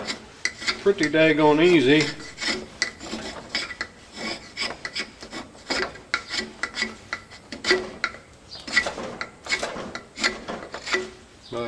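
A hand tool rasps across a piece of hickory wood in repeated scraping strokes, each a short gritty burst with brief pauses between, close by, and someone talks briefly over it.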